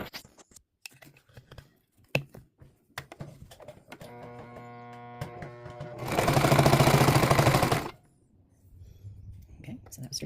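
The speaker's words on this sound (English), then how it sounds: "I'm going to do a test sew now." A Singer Tradition 2277 sewing machine test-sews a straight stitch, a fast rapid whirring burst lasting about two seconds after scattered handling clicks and a faint hum, with quiet whispered talk around it.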